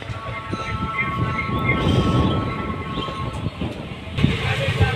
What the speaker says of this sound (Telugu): ట్రైన్ ఇప్పటివరకు ఒక 50 స్పీడ్ కూడా దాటలే, మెల్లగా పోతుంది